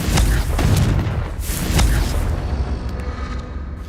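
A Confringo spell explosion in the Hogwarts Legacy video game: a loud, close, booming blast with rumbling low-end bursts that roll on and slowly fade.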